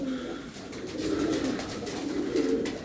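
A flock of pigeons crowding in to feed, low cooing rising and falling steadily at close range, with no one talking.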